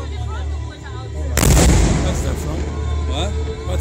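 Fireworks at a crowded public display in Mellieha, Malta: a loud, close burst strikes suddenly and rumbles into crackling and lingering booms, with faint crowd noise beneath.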